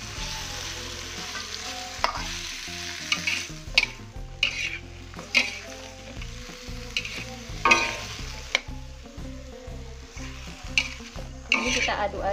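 Bottle gourd frying with spices in a pan is stirred, a continuous sizzle broken by repeated scraping and clinking of the utensil against the pan in an irregular rhythm, close and clear with no talking.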